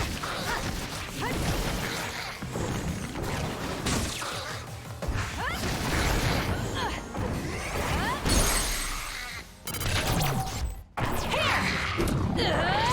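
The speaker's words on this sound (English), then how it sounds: "if you're gonna always give me items for smashing open these flowers, then I'm gonna take the items" Flowers shatter under repeated attacks in the action game Scarlet Nexus, with dense bursts of glassy smashing, whooshing swings and heavy thwacks layered over constant combat noise, loud and near throughout.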